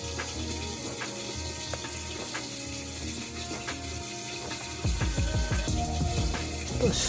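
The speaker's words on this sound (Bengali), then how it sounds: "তো এরম করেই আমি ধুয়ে নেব" Potatoes washed under a running kitchen tap: a light water patter with small clinks and rattles, then a louder gush of splashing water near the end, no speech.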